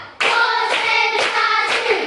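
In a classroom ice-breaking clapping game, a group claps four times in unison at an even, steady beat, each clap loud and close, with sustained voices running beneath.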